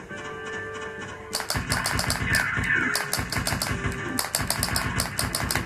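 Game audio from The Maze of the Kings arcade game plays loud and continuous: rapid rhythmic electronic pulses and music, with harsh cawing bird effects as the birds attack. No one speaks.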